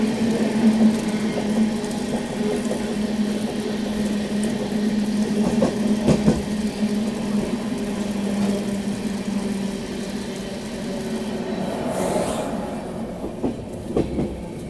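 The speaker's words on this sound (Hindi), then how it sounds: "और ये है train number 14218 Chandigarh Prayagraj Unchahar express, और गाज़ियाबाद में इसका ओवरटेक हो रहा है।" The 14218 Chandigarh–Prayagraj Unchahar Express overtakes at Ghaziabad, a sustained rumble of passing coaches with rhythmic clickety-clack wheel beats and a low engine drone, close and steady before easing near the end.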